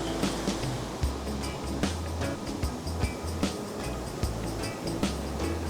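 Big ocean waves break on the beach at Malingping, a loud, rolling roar of surf with repeated crashes and deep low rumbling, heard without talk.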